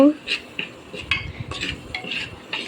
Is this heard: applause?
no